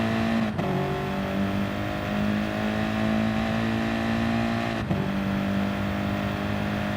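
Race cars including a Lamborghini lapping Suzuka in a racing game, a loud continuous engine drone with steady tonal whine and two brief gear-shift dips, close and without any voices.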